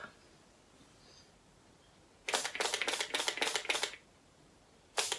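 A skincare spray bottle pumped in a quick burst of about six rapid close spritzes, followed by one more spray after a short pause, in an otherwise quiet room.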